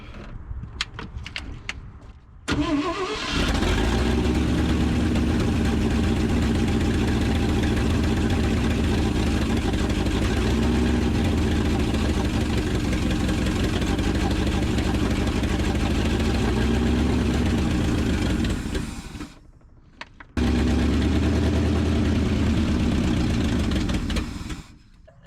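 An abandoned 1963 International Loadstar truck engine that has been cut in half and is leaking fuel cranks over, then catches and idles with a rough, loud, steady rumble. It cuts out briefly near the end and then picks up again.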